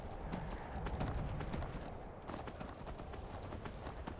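Horse hooves clip-clop at a steady trot as a rider travels through the Requiem video game world, a close, rhythmic patter that continues throughout with faint ambient sound beneath.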